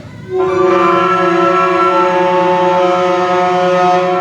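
A school band's saxophone section at a spring awards concert plays one loud, sustained, buzzing chord imitating a feedbacking electric guitar, starting abruptly and holding steady for several seconds.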